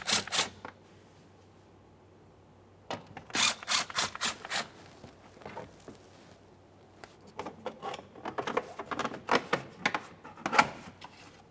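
Two 10mm bolts come out of the splash shield under a 2003-2008 Toyota Corolla, with bursts of quick ratcheting clicks and rasps close up, separated by short quiet pauses.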